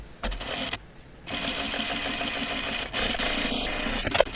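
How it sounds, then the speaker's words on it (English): A sewing machine edge-stitches a cut-away pocket, its motor humming at a steady rapid pace, broken by a brief pause and restart, with small clicks near the end. "then we'll edge stitch it"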